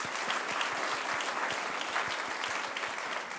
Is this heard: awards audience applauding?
yes